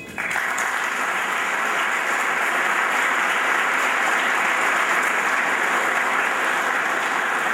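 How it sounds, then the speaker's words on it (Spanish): A firefighter cadets' ceremony audience breaks into applause, a dense, even wash of clapping that starts abruptly and holds strong and steady throughout. "redoblamos el aplauso para ellos."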